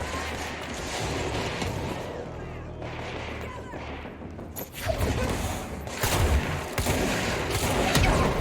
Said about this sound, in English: I gotta pay more attention to the dudes in the background shooting missiles